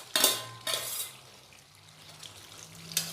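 Chana masala with ground cashew, poppy seed and fried coconut being stirred in a pot, giving a few short metallic scrapes and clinks close by, with a soft sizzle between them.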